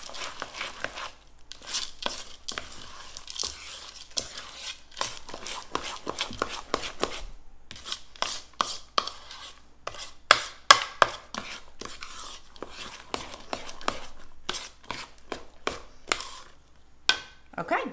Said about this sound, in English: Then you're going to add in your chocolate chips. And you're going to stir those in by hand.